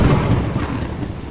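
A lightning strike in the video game Lethal Company sets off one loud, broad rumble of thunder that rolls on for just over a second, with no voices over it.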